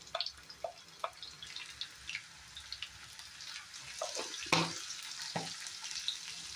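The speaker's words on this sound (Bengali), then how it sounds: "আলুটা সুন্দর করে ফ্রাই করে নেব" Potato pieces dusted with turmeric frying in a pan, a soft, low sizzle with scattered drips, pops and the clink of stirring, close and fairly quiet with no talk.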